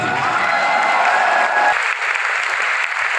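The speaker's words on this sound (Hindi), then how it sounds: "एकदम से मस्त वाली ताली बजा दो अपने आप के लिए" Seated attendees at an RCM Business motivational seminar clap loudly and densely, then the applause thins out and fades to a softer patter.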